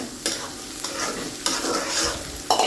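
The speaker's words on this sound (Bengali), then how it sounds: "শুটকিটাও আমি দিয়ে দিব পেঁয়াজের সাথে, আর একটু ভেজে নেব তেলের মধ্যে" Onions and dried loitta fish fry in hot oil, a steady sizzle broken by several scraping stirs of a spatula against the pan at irregular intervals, close and clear with no talking.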